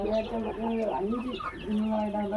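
Hens in a coop cluck while laying eggs, with repeated close, throaty clucks and calls running through the whole stretch.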